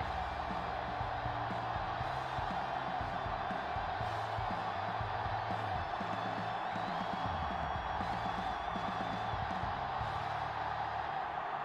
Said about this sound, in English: The crowd is ready, the teams are ready,